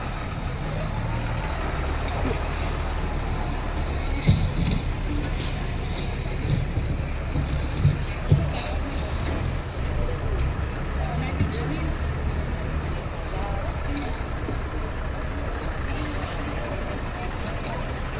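A police truck of Police Regional Office 5 rolls past in a commemoration parade, a steady low engine drone with occasional clanks, persisting beneath an announcer speaking over a loudspeaker.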